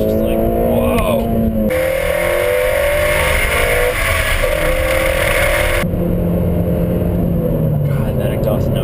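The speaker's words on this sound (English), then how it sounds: "Just hear the engine spool up, and you hit VTEC" An Acura ILX's 2.4-liter engine revs up loudly into VTEC, pitch climbing and dropping as it accelerates, heard from inside the cabin with a voice speaking over it.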